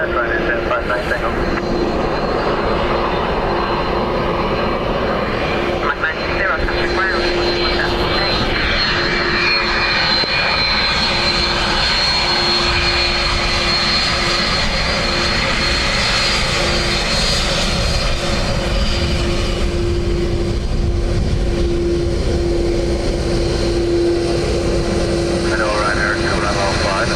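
A Ryanair jet lands on runway 28 left at Dublin Airport on a windy day, its engines roaring loudly and continuously for nearly half a minute while radio chatter from air traffic control runs underneath.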